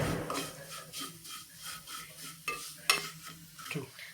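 Plain vermicelli being roasted in a pan, stirred in a steady back-and-forth rhythm with dry scraping strokes and a light sizzle, a couple of sharper utensil knocks, close and fairly quiet, no one speaking.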